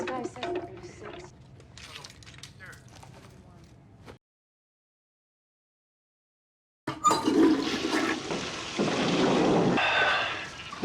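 Toilet flushing: a rushing, gurgling burst of water after a brief silence, preceded by people talking and movement noises.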